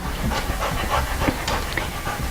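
A dog pants quickly and steadily close by, a rapid, breathy rhythm of short exhales running through the whole moment indoors while a guest is greeted, with no speech heard.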